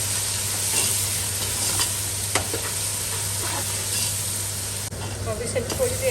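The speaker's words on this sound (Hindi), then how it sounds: "अब इसे थोड़ी देर के लिए हम भून लेंगे लहसुन अदरक की पेस्ट।" Garlic ginger paste fries with browned onions for chicken pulao, giving a steady close sizzle with occasional scraping stirs and soft clicks, a low hum running underneath.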